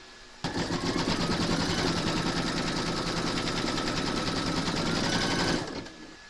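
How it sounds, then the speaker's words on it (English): Embroidery machine stitching a placement outline for a moon phases runner, a single continuous fast rhythmic needle rattle that starts abruptly, holds steady at close range for about five seconds, then stops. "Load your neutral thread colour into your machine, and then you're going to stitch round number 1"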